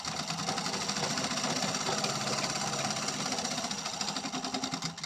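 A sewing machine stitches saree blouse fabric with a fast, steady, rhythmic chatter that stays moderately quiet and continues unbroken throughout.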